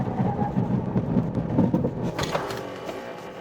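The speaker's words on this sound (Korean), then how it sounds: "시속 100에서 제동 한번 해보겠습니다." A Lexus UX 300e electric car braking hard from 100 km/h, giving a steady broadband road and cabin rumble that eases toward the end, with no talking.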